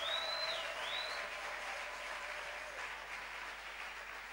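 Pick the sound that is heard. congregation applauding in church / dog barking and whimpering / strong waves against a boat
congregation applauding in church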